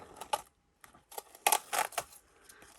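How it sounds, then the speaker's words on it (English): Crinkly plastic and paper wrapping is pulled open on a package of acrylic pieces and chipboard stickers, giving short, quiet rustles and crackles in irregular bursts with brief pauses, close to the microphone. "And let's unwrap this."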